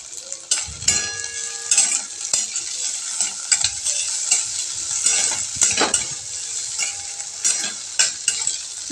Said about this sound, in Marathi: छान असं परतून घ्यायचं आपल्याला बटाटे तेलामध्ये